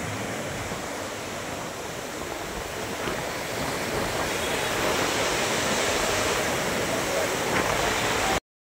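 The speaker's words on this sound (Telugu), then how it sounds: "ప్రస్తుతానికైతే 3 కమాన్లోకి వెళ్ళి నీళ్ళు పోతున్నాయి ఇక్కడ చూడండి." Floodwater rushes through the arches beneath Purana Pul bridge in Hyderabad as a dense, continuous roar that swells slightly toward the end and then cuts off abruptly.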